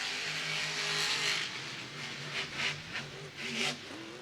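A monster truck at a 2022 Monster Jam stadium show at TIAA Bank Field, Jacksonville, revs hard through a series of jumps, engine bursts rising and falling loudly with crowd noise behind.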